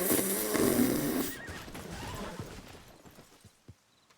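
Horse in a video game letting out a loud whinny at the start, which fades into quieter snorts and shuffling, with a couple of soft thumps near the end.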